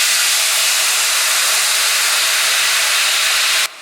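Turmeric and salt paste sizzling in hot oil with slit chillies for a Bengali hilsa fish curry, a loud, steady hiss with no break until it cuts off abruptly at the end.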